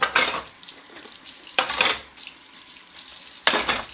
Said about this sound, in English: sometimes I'm a little bit too rough with my dishes because I'm moving very quickly